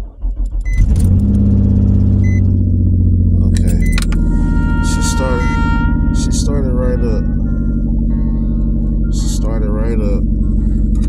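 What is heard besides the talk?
car engine starting and running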